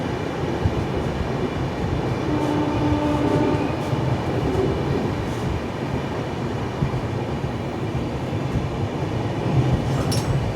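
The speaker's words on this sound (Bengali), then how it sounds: "ট্রেন আমাদের পেরাচ্ছে জালেশ্বর স্টেশন" Howrah–Bangaluru SF Express train passing through Jaleswar station in dense fog, a steady loud rumble of wheels and carriages sustained throughout, with faint squeals and a brief horn-like tone near the end.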